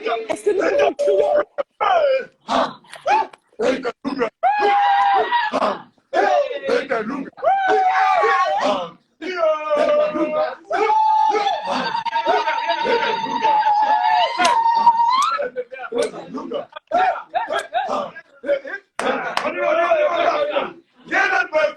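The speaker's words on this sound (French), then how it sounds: "Est-ce que nous pouvons crier?" At a lively French-speaking gospel worship gathering, a congregation shouts and cries out in loud bursts, with sustained wails and ringing vocal tones layered over the crowd, repeated in waves throughout.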